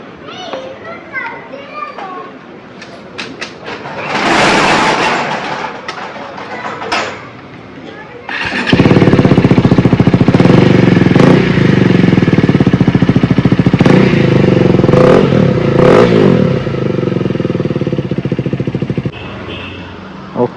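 A KTM Adventure 390 motorcycle fitted with a Red Rooster Galactic aftermarket exhaust fires up for its first start after installation. A loud, rough, steady engine roar runs for about ten seconds, preceded by quieter background noise and children's voices.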